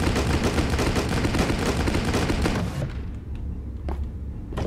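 Gunfire in the video game Rocketbirds: Hardboiled Chicken roars as a dense, loud burst for nearly three seconds, then stops abruptly, leaving a lower rumble with a couple of faint sharp cracks after it.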